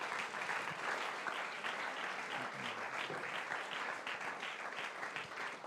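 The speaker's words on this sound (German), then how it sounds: "Gebt ihnen doch nochmal einen herzlichen Applaus." A church congregation gives warm applause during a livestreamed service. Dense, even clapping fills the room, heard from a distance, steady from start to finish with no voices over it.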